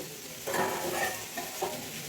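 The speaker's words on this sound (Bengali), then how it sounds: "সে একসঙ্গে বরবটি আলু ভাজা করে দিচ্ছি।" Potatoes and yardlong beans fry together in a home kitchen pan, giving a soft continuous sizzle with a few louder stirring scrapes and swells, heard up close with no talking.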